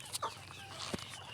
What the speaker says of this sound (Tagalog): Ayan si Ibian, magpapakain ng manok.